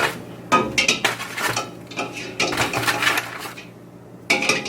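Eggs being set into a cooking pot for egg curry: a cluster of clattering knocks and clinks against the pot, loud and close, arriving in irregular bursts with short pauses between.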